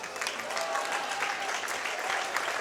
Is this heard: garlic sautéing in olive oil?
no